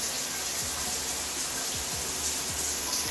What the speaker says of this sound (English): I accidentally turned the shower on.